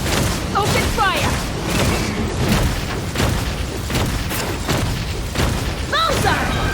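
Cannons firing in Genshin Impact: a steady run of heavy booms and thuds over a dense, rumbling battle bed, while a character's voice calls out briefly between shots.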